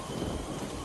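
Heavy rain pours steadily on a deserted road on a dark night, a dense, unbroken wash of noise with a low rumble beneath it throughout.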